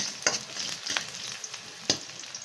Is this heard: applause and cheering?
no